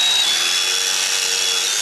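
A power drill bores into a balloon-cast plaster sculpture, giving off a steady, loud, high whirring whine that holds evenly through the short stretch.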